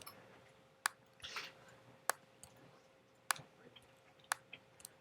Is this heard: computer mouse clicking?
yes